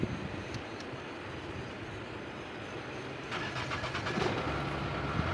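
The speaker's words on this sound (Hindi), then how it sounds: "गाड़ी स्टार्ट करता हूँ मैं" A Mahindra Bolero engine idles and rumbles at a distance, then catches and revs slightly louder near the end, with no talking, after an accelerator fault repair.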